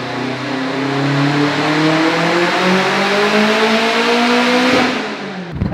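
A 2007 Subaru STI with a rotated turbo kit revs hard on a dyno at high boost, a loud, close engine note climbing steadily in pitch for several seconds before cutting off sharply.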